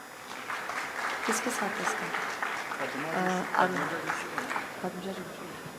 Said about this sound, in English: Huge round of applause again.